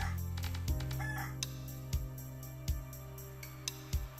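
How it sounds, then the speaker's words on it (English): Chickens attack in the minimalistic survival tower defense game OUTPOST, with repeated clucking and crowing calls and several sharp hit sounds spaced through the stretch, without any talk. "Not sure why I'm being attacked by chickens"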